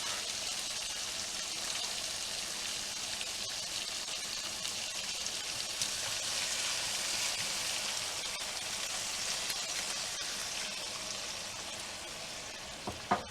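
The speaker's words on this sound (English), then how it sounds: "we'll add our white cooking wine" White cooking wine hits a pan of shrimp scampi with a steady, faint hiss and sizzle that holds evenly throughout, ending with a small knock.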